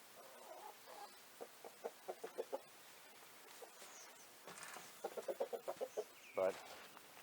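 Chickens cluck in quick rhythmic runs of soft notes while foraging outdoors, with a louder squawk near the end and faint background noise between the bursts.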